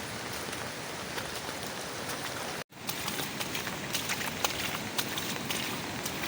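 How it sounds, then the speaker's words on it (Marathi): Steady, dense rain hissing across all frequencies, with scattered louder drops and a brief dropout partway through; no voices. "आज सकाळपासून खूप पाऊस आहे"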